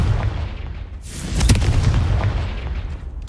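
Confringo fire spell blasts in the Hogwarts Legacy video game on hard mode, a loud booming explosion that swells midway and rumbles on continuously, with a fresh burst at the end.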